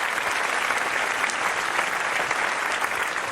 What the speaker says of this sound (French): Applaudissements pour Anne Hidalgo, Madame la maire de Paris.